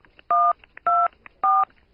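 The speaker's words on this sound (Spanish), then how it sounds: "Entonces, desde su teléfono, si no le importa, márqueme" Three telephone keypad dialing tones, each a steady dual-tone beep about a quarter second long, evenly spaced and clear, with faint background noise between them and no voices.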